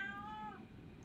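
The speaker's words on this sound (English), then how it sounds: "My cat yelling at me, sorry." A cat meows loudly and insistently nearby, one drawn-out yowl that trails off into steady background room noise.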